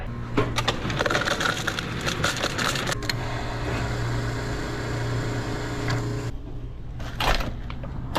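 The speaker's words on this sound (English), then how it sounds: "there's definitely something grinding on the gears" A worn laptop hinge mechanism grinds on its gears, producing a continuous rough crunching and crackling with a low steady hum underneath, easing off briefly near the end before another burst.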